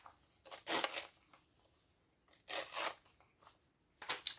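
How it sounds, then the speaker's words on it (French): Scissors snipping through a playing card for a magic trick, three separate crisp cutting strokes close to the mic, quiet and dry with short pauses between them. "On découpe."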